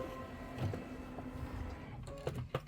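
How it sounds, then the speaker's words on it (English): A sewing machine with a walking foot and a quarter-inch flange foot pieces thick quilt fabric in a steady mechanical whir at a short stitch length. A few clicks and taps come near the end. "and I'm going to go into sewing."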